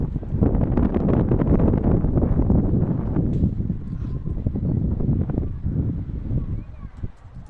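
Strong, gusty wind buffets outdoors in a continuous deep rumble that swells and eases, loudest early on and slightly calmer toward the end.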